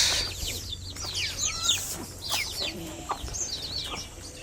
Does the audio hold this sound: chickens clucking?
yes